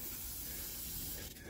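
Silicone spray hissing from an aerosol can onto a car door seal, a steady close spray for over a second, faint overall, with a brief break near the end.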